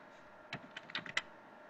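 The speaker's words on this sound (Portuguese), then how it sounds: "esqueço que esse teclado não funciona" Several quick keystrokes tapped on a computer keyboard in a quiet room, a short irregular burst of clicks with a louder final tap, no talking.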